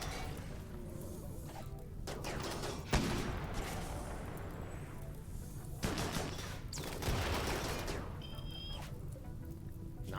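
Rapid minigun gunfire rattles through a RimWorld battle, with dense, continuous crackling bursts and a few sharper impacts layered on a busy, moderately quiet background.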